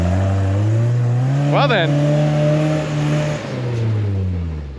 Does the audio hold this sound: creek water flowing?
no